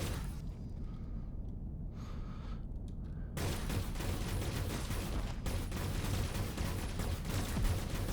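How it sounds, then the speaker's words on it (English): Missiles striking a pirate ship in Avorion: after a few quieter seconds, a dense barrage of rapid impacts and blasts erupts and keeps rumbling steadily to the end. "This will shoot the missiles at him at least, or attempt to."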